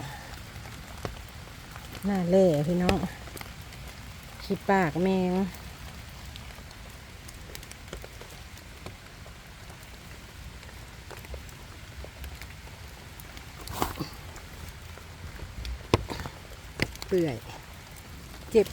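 Steady rain patters on the ground while wild earth mushrooms are picked in the forest, a soft continuous hiss running under nearby talking.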